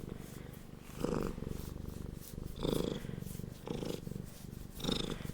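A contented cat purring close up, soft rhythmic rumble with louder breathy swells roughly every second and a half, steady and intimate with no talking.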